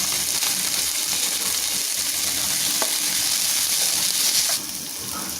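Chopped green chillies, tomato and carrot sauté in hot oil for hotel-style sambar, giving a steady, close hiss of sizzling with faint stirring clinks, loud and continuous, no voices.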